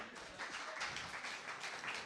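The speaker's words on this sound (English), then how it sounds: "Let's clap." A brief burst of audience applause at a Quantum Intelligence scientific talk, dense rapid clapping that stays fairly faint and steady for about two seconds.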